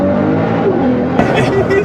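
A 2014 Nissan GT-R making about 1380 wheel horsepower accelerates hard from inside the cabin, with a loud continuous engine roar and whining harmonics that rise steadily. People talk over it.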